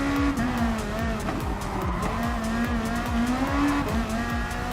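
GT500 and Group 3 race cars in the video game Gran Turismo Sport, a steady, loud engine drone with repeated rising and falling revs from several cars running together, with occasional tire squeal, no talking.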